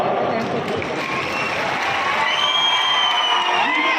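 Crowd at a political rally breaking into sustained applause and cheering, a broad, roaring wash of clapping and whoops that stays loud and even from start to finish, with a voice faintly audible beneath it.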